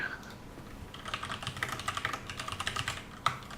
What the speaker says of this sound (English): Got the crazy keyboard.